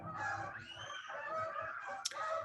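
Geese honk in a close, loud overlapping flock, calls following one another without pause and no voices.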